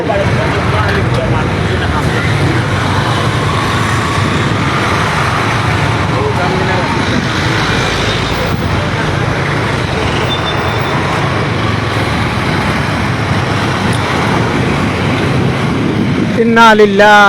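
Continuous roar of heavy road traffic in a long traffic jam on the Dhaka–Sylhet highway at Telibazar, with engines rumbling and vehicles passing close by, and a person talking over the noise.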